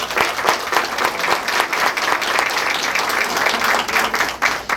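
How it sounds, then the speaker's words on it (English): Board meeting audience applauding parents, with sustained loud clapping from a crowd throughout and a few faint voices mixed in. "if we could get both of our student councils to give our parents a round of applause"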